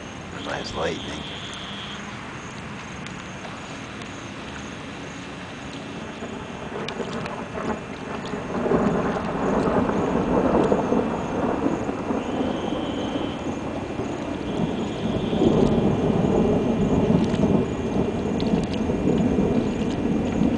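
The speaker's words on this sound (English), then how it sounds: "Nice thunder roll." A long, low thunder roll from a storm rumbles and swells for many seconds over steady background noise, growing louder in the middle and holding strong toward the end.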